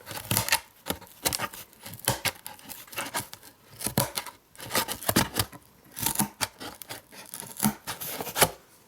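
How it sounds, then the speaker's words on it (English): Short scissors on a Gerber Suspension multitool chopping through tough cardboard, with repeated close snips and tearing crunches in irregular bursts and brief pauses. "they do power their way through the cardboard, so I have to give that a, they're pretty good scissors"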